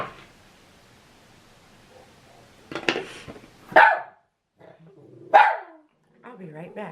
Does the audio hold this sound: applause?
no